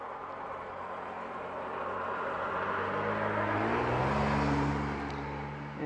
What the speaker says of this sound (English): of course there's lots of cars going by